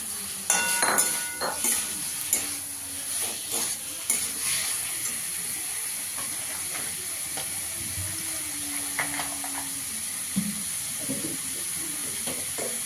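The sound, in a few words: fried pointed gourd added to sautéed spices in pan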